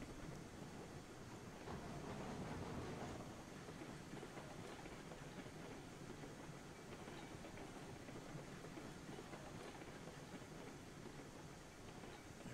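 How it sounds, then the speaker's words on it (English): A train in the Railroads Online video game rolls along the rails, giving a faint, steady rumble with soft rhythmic clatter throughout. "I'm curious to see if this train will fit in that last siding."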